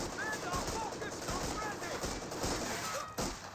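Rapid machine-gun and rifle fire rattles steadily through a Company of Heroes 2 battle, with dense overlapping bursts under a commentator's continuous talk.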